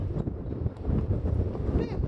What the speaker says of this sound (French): C'est quoi ce vent de fou, frère?